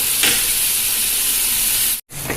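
Turkey berries sautéing in an oiled pan for chutney, a loud, steady close sizzle and hiss that cuts off briefly near the end and then resumes.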